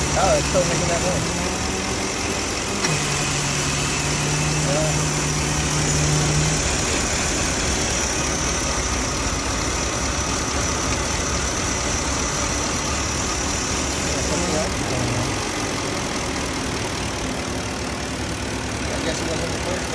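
The 4.5L V8 of a 2005 Porsche Cayenne S idles steadily at about 1,000 rpm, a continuous close hum and whir with a brief tonal note early on, after purge valve work.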